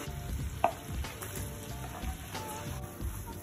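Capsicum sizzles and fries steadily in a pan with soy sauce and red chili sauce while chili jackfruit is cooked, a soft continuous crackle with a brief sharp pop.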